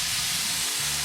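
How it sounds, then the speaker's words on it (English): Food sizzles loudly and steadily in a hot oiled pan, a dense close hiss with no talking. "I can hear the sizzling"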